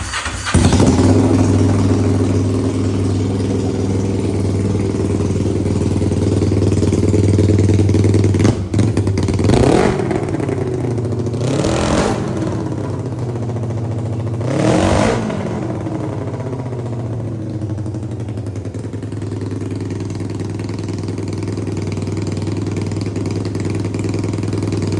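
A 500cc mini bike engine runs at a steady, loud idle, then blips the throttle in three sharp revs before settling back into a rough, even idle with light mechanical clatter.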